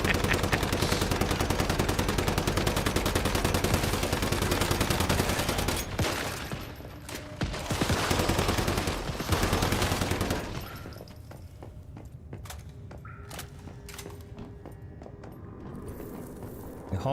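Player gunfire in the video game Once Human: loud, rapid automatic bursts rattle for several seconds, break off, resume briefly, then give way to scattered single shots and clatter at lower level.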